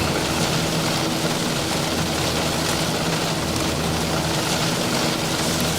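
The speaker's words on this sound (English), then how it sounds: "Sounds like rain." Steady, dense rain hiss with a low engine drone underneath from a Boeing 737 in the X-Plane flight simulator, constant and fairly loud throughout, with no voices.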